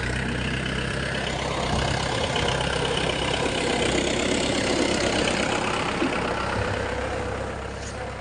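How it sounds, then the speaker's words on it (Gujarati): A tractor engine idles on a farm in a steady, loud low rumble that holds evenly throughout, easing off slightly near the end. "ટ્રેક્ટર આવે છે"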